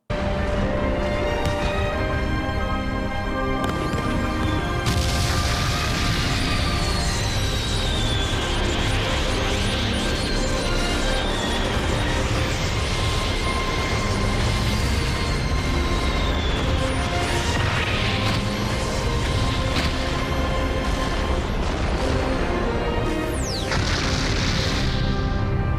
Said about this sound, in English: Do fireworks happen every time they hit now?